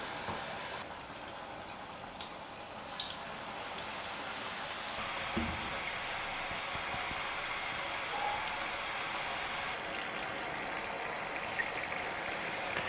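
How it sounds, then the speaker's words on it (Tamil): Pottukadalai murukku frying in hot oil, a steady close hiss and bubbling sizzle that runs unbroken from start to end with no talk. "இதே போல் இருக்கிற எல்லா மாவையும் நான் முறுக்கு பிழிஞ்சு எண்ணெயில் போட்டு சுட்டு எடுத்துடுறேன்."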